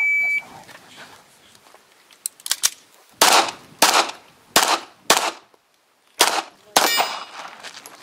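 Pistol shots ring out at a practical shooting competition during an El Presidente stage, with six sharp, loud reports fired in quick succession after a few softer metallic clicks and clangs.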